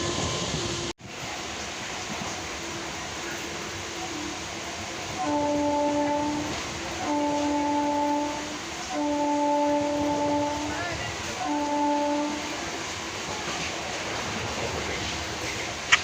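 A passenger train is heard from inside while moving, with a steady rolling rumble and a loud horn that sounds in four sustained blasts midway.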